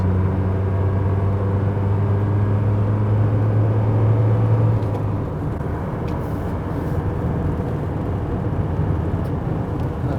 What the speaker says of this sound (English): Listen how smooth that diesel runs.